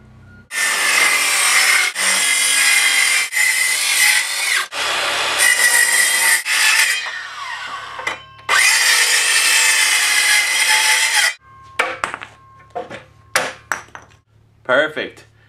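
Sawing notches into the back of a wooden bunk bed ladder, with long loud rasping saw strokes running in bursts and brief pauses, then trailing into scattered short scrapes and taps.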